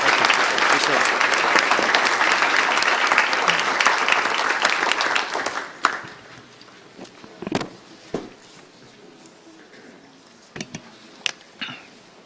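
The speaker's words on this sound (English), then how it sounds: "So just ask everybody to give him a big round of applause." Loud, sustained applause from a crowd at a Brevard County Commission meeting fills the first six seconds, then cuts off into a quiet room with scattered claps, shuffling and a few faint voices.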